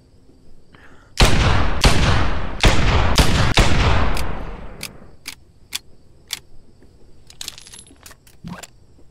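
A gunshot sound effect fires in a rapid series of loud, sharp cracks, then thins into scattered single shots with metallic clinks and rattles as it fades. No one speaks.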